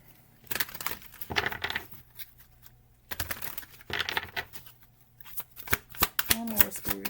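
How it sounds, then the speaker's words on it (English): Tarot cards get shuffled in several quick riffling bursts with pauses between them, close and fairly quiet, ending in some soft clicking flutters. "Let me do a little quick shuffle real quick."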